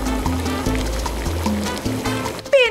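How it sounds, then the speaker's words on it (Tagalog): A generous stream of water pours into a cooking pot of sautéed garlic, onion and tomato for a fish-head soup, a close, gurgling splash with a low hum beneath, briefly ending in a rising fill. "Pagkatapos, lagyan ng maraming tubig."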